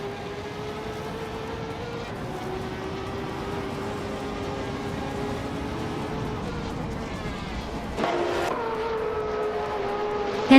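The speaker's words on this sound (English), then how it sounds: "Hingle McCringleberry is driving a 1999 Lamborghini Diablo GTR" A 1999 Lamborghini Diablo GTR race car in a racing video game, its engine holding a steady, sustained droning note with slight pitch shifts, briefly rising louder near the end, heard alone with no talking.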